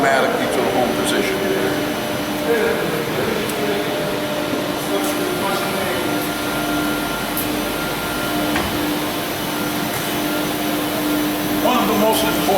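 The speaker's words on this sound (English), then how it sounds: "Once the extrusion is completed, this pump will stop operating, the motor will stay running" Hydraulic extrusion press motor and pump humming steadily in a metal-working shop where aluminium and copper wire is drawn, a loud continuous drone with a few faint clanks over it.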